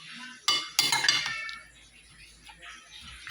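A utensil stirs and mixes in a bowl, with a couple of sharp clinks and scrapes early on, then softer faint stirring.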